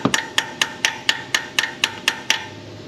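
Nine sharp metallic hammer strikes drive an extractor socket onto a fuel injector of a Duramax 6.6 turbo diesel engine at a steady rhythm, close and loud, each ringing briefly before the next blow.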